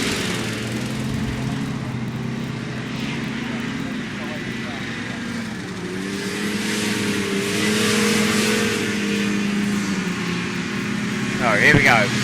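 A race vehicle at Hackets Lake sweeps into the banked turn on the last lap, its engine a steady loud drone with shifting pitch under continuous commentary, ending in a brief sharp burst.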